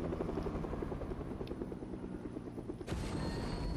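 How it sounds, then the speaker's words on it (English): A helicopter flying in Fortnite, its rotor thumping in a fast, loud, steady beat throughout, with a brighter burst of noise near the end. "Trying to take this helicopter out of the air."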